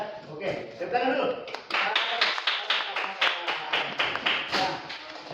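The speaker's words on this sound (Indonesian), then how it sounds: "tepuk tangan dulu" Classroom group claps hands in a burst of brisk, roughly rhythmic applause, starting ragged and settling into steady beats, with a voice speaking briefly at the start.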